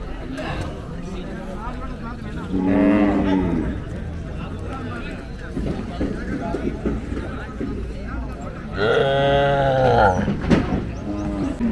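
Native cattle at a weekly country cattle market give two long, loud moos several seconds apart, while people chatter and talk nearby throughout.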